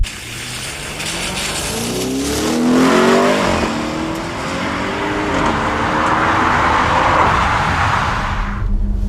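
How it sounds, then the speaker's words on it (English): An Audi RS6 Performance fitted with an Akrapovic titanium exhaust revs loudly, the engine note sweeping upward around the third second, then holding a strong, rough roar with further revs before cutting off near the end. "the introduction and fitment to the Audi Sport Akrapovic titanium exhaust system"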